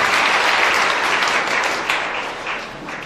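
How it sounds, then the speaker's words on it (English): A crowd at a Plateau State public event for the distribution of health and educational materials applauds the governor, a loud, dense wash of clapping that holds steady and then slowly eases off. "So let's give him a round of applause, please."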